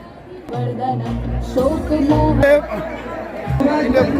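A large crowd of devotees at the Kalbhairav Jayanti festival in Malegaon chatters in a dense, continuous babble of many overlapping voices, loud and close throughout.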